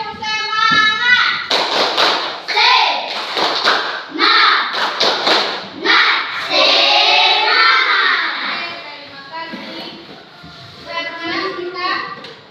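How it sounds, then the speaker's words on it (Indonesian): A class of children performs tepuk semangat, a rhythmic spirit clap, chanting loudly together with bursts of claps and thumps in a lively, echoing classroom. "ayo kita dulu tepuk semangat kita dulu ya"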